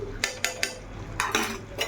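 Egg and butter being stirred in a pan: a spoon strikes and clinks against the metal in a handful of sharp, close taps spaced unevenly over a faint background hum.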